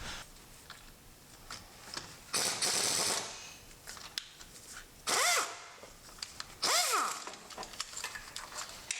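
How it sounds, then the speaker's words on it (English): Pneumatic impact gun working rusted bolts on an Audi R8 being converted from V8 to V10, firing in several short loud bursts with a rising-falling whine between quieter workshop clatter, no voices. "Oh, the power of pneumatic guns."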